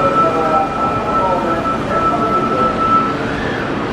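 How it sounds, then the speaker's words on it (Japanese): An Osaka Metro Midosuji Line 30000 series train departs the station, a steady rumble with a faint high tonal whine under the platform noise. "電車が発車します。"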